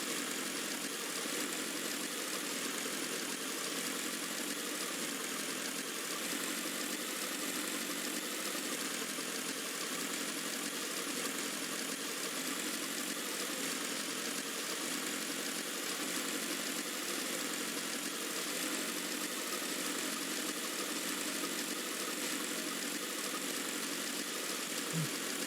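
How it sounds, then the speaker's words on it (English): A motorcycle engine in the video game Final Fantasy XIV runs as a steady, unbroken drone for the whole stretch, even and moderately loud with no speech over it. "I guess we are riding our motorcycle today"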